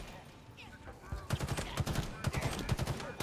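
Rapid gunfire in the shooter game Halo Infinite: a dense run of sharp, loud reports after a quieter opening, firing in quick, uneven bursts.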